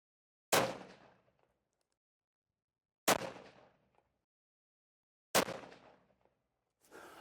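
Three loud 7mm PRC rifle shots, each a sharp crack followed by a decaying echo, spaced about two and a half seconds apart, with the start of a fourth at the end; no talking.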